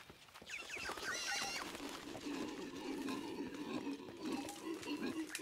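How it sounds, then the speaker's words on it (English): Monkeys chatter and squeal in a jungle in the video game Shadow of the Tomb Raider, a cluster of high, squeaky calls early on over a continuous rustling, moderately loud background. "Those are monkeys making that noise."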